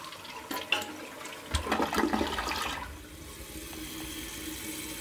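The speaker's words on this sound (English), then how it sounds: "Now I'm just going to flush it." An AquaSource toilet fitted with a Fluidmaster 400AH fill valve flushes in a close, loud gurgling rush of water, then settles into a steady hiss as the tank refills.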